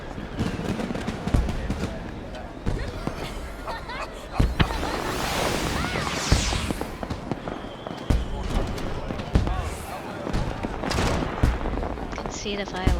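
Fireworks in Final Fantasy XIV during The Rising event, a string of sharp pops and crackling bursts at irregular intervals over a busy background of game sounds.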